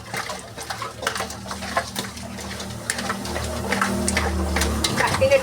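Seela fish being washed and rubbed with salt in water in a large earthen clay pot, with close sloshing, swishing and scraping in an irregular rhythm that builds toward the end.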